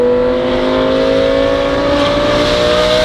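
An Audi R8 V10 fitted with a Valvetronic Designs F1 exhaust revs, giving a loud, smooth, continuous engine tone that climbs steadily in pitch, close up and with no voices.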